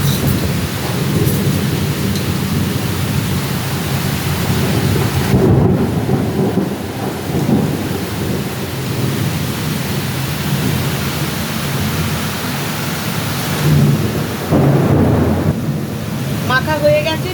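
Heavy rain pours steadily during an outdoor thunderstorm, with loud rumbles of thunder rolling through the downpour and a brief voice near the end.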